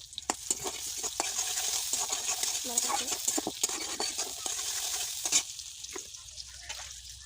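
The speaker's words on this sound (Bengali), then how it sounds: "তেল দিয়ে দিব পেঁয়াজ কুচি পেঁয়াজ কুচি দিয়ে দিচ্ছি" Chopped onions fry in oil in a pan over a clay wood-fired stove, a crackling sizzle broken by frequent clicks and scrapes of a spatula stirring against the pan, close and fairly quiet.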